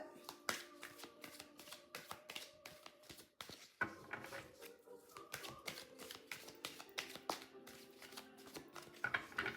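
Tarot cards handled and drawn from a deck, with rapid crisp shuffling and snapping of cards and soft hand taps in a steady flurry, close and fairly quiet, with a brief pause partway through.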